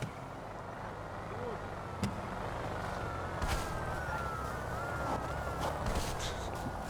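Quiet rising and falling police siren wails from a FiveM video game in the background under low engine rumble and occasional talking.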